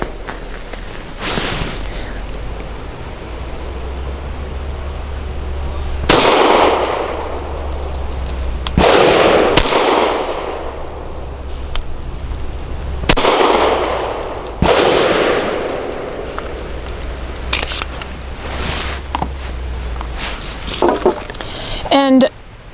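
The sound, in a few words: Walther PDP 4" Compact pistol firing Archon 124 grain hollow points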